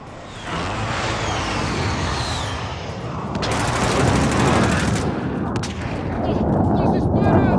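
Call of Duty Modern Warfare combat erupts in loud, sustained gunfire with rapid automatic bursts and booming blasts, growing denser midway, with voices partly buried in the din.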